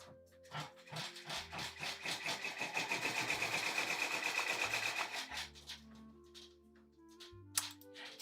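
An embroidery machine stitches steadily, its rapid needle chatter building to a dense, loud mechanical whir through the middle and then easing, with music playing underneath the whole time.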